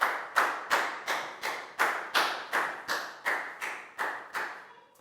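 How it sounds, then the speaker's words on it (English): A primary school class giving a round of applause for a pupil, heard as about a dozen loud, evenly spaced clap bursts, each sharp and quickly fading, close by with no talking. "High five and a big round of applause for Prel,"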